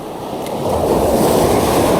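Strong ocean surf at Long Point, Palawan, a continuous loud roar of breaking waves that swells louder partway through, with wind buffeting the microphone and no voices.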